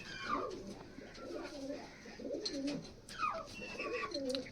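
Allahabadi pigeons kept indoors for sale coo in soft, throaty rolling phrases, several overlapping calls close by with faint background voices.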